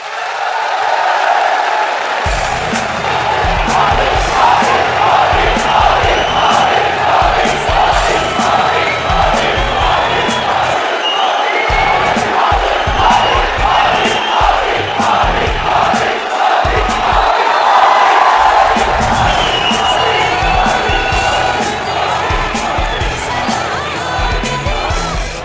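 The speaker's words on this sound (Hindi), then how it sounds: "अगर आप नरेंद्र मोदी की बातों पर विश्वास करते हैं तो हाथ उठाकर ताली बजाकर समर्थन करें।" A large crowd at a political rally roars with sustained cheering, shouts and clapping, loud and continuous throughout, with whoops rising over a dense wall of voices.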